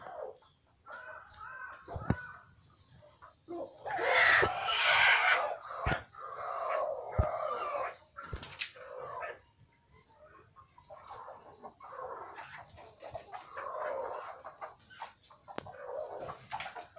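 Native village chickens peck at a tied bunch of red amaranth greens, clucking and calling in irregular bursts nearby, with one louder squawking flurry and quieter gaps between.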